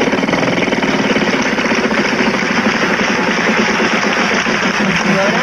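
A game-show prize wheel spins on Wheel of Fortune in 1991, its pointer ticking in a fast, steady rattle of clicks that carries on for several seconds.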